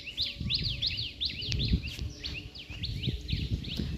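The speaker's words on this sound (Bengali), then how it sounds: "এই দিকটা অনেক পাখি ডাকছে" Many birds call and chirp repeatedly from around a rooftop on a breezy afternoon, with bright overlapping tweets over faint low background rustle and no talking.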